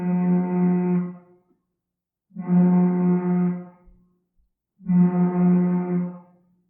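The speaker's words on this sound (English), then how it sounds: "If you can hear the sound of that fire horn right now" A foghorn sounds three long, loud, low blasts, each about a second and a half, separated by short pauses, with no voices.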